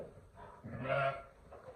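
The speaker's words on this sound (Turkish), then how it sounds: "Şöyle keçiler her zamanki gibi." A single short goat bleat, fairly faint and slightly distant, rising and fading within a second.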